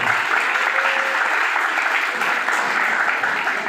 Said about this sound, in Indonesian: Tepuk tangan dulu untuk saudara kita